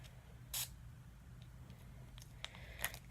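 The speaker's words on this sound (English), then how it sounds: "I'm going to go ahead and spray the NYX on it" NYX makeup setting spray is misted from a pump bottle in two short, soft hissing bursts, one early and one near the end, close by and fairly quiet, with no talking.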